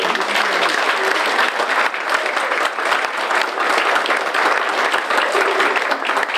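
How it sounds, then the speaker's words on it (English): Sustained audience applause at an outdoor artisan fair celebrating a house's 100th birthday, a loud, dense wash of many people clapping continuously at close range with no talk over it. "we need to give Bruce another round of applause for sharing his story."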